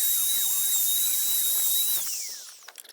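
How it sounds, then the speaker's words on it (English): A router rounding the top edge of a wooden birdhouse piece, a loud high-pitched steady whine that drops in pitch and fades as the cut ends and the motor spins down. "So we want to router this off. So this top part's round."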